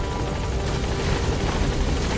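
Helicopter in Metal Gear Solid V: The Phantom Pain, a steady loud rotor drone with chopping blade pulses holding throughout, close and continuous with no speech over it.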